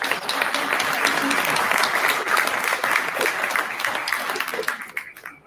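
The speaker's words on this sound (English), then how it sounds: "Let's give him a round of applause." Audience at a city board meeting applauding a fire chief, steady full clapping for several seconds before tapering off.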